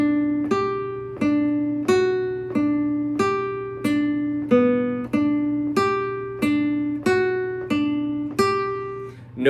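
A guitar plays a steady line of evenly spaced quarter notes over a sustained low drone, with clear plucked attacks and ringing tones at moderate volume, and no voices.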